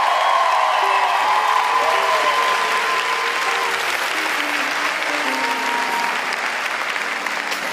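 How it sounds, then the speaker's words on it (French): A comedy show audience breaks into loud, sustained applause with scattered cheers, a thick roar of clapping that stays strong throughout and fades only slightly near the close. "Kim Gingras, on peut l'applaudir, mesdames et messieurs."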